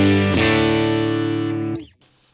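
A Nash T52 Telecaster-style electric guitar played through a UAFX Ruby amp on its green speaker setting rings out as one sustained, distorted chord, loud and alone for about a second and a half before being cut off.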